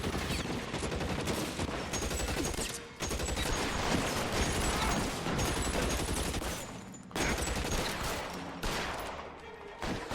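Gunfire from the LA Noire video game, dense volleys of shots rattling in sustained bursts broken by two short lulls, fairly faint overall.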